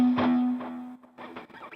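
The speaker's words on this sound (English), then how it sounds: "So quarter note delay, it sounds like this." An electric guitar through a Helix Native quarter-note delay plays a few distorted notes, each repeated by echoing copies that stack and smear together; close and loud with no talking.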